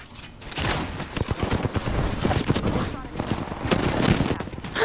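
Rapid bursts of gunfire in the Apex Legends video game, close and loud, with shots fired throughout and players talking over them.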